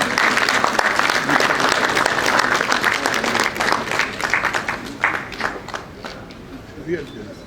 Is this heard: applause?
yes